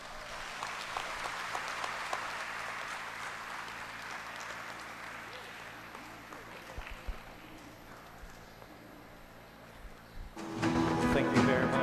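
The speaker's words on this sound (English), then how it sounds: "A big warm round of applause once again, ladies and gentlemen." Audience applause at the RIDe Fest 2023 gathering: a dense, steady wash of many hands clapping for about ten seconds, easing slightly before a louder, harsher burst of noise takes over at the end.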